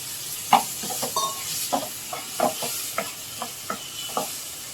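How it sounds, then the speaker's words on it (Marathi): Roasted, washed prawns fry in hot oil in a home kitchen. A steady sizzling hiss runs under a regular series of sharp stirring scrapes and taps against the pan. "ते घालूया आणि ते पण तेलावर मस्त फ्राय होतील"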